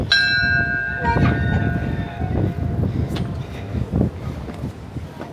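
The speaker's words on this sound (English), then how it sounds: "Ring the bell. Just pull the string." A bell rung by pulling its string, heard at Key West's Mallory Square area: a bright ringing strike at the start with a lingering metallic tone, followed by scattered clanks under nearby talk and outdoor bustle.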